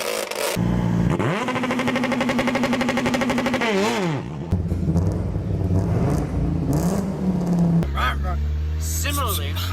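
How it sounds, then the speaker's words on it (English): A loud engine revs and roars steadily, its pitch rising and falling, with a few shifts in tone, close and continuous. "listen to that engine"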